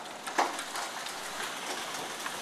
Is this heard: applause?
no